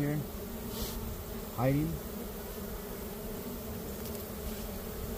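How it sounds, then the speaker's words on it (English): Honey bees buzz inside a box during a rescue from collapsed comb, a steady low hum throughout with a brief rising whine near the middle; a voice speaks briefly. "There's still quite a few bees in here"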